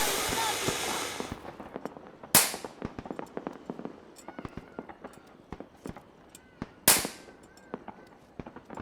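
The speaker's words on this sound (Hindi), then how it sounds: "अन्ना मुझे भी वैसे पटाखे चाहिए" Firecrackers crackle in a dense, rapid rattle during Diwali, then a couple of sharp loud bangs stand out amid many scattered popping bursts, near and echoing, with no clear talking over them.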